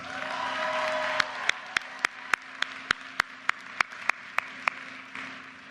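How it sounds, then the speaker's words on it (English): Scattered claps from a commencement audience at a University of Maryland ceremony, about a dozen sharp, evenly spaced hand claps over a steady hall murmur and hum rather than full sustained applause. "Give her a round of applause."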